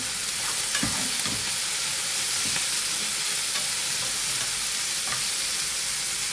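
Garlic cloves and ivy gourd frying in an oil-filled pan, a loud continuous close sizzle with occasional stirring scrapes and clinks, no voices.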